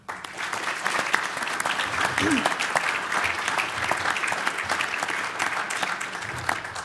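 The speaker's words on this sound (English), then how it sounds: "Let's applaud her and her staff." Clapping from a banquet audience at an annual tea held by an employment network, a steady, fairly loud round of applause throughout, with a voice heard briefly over it.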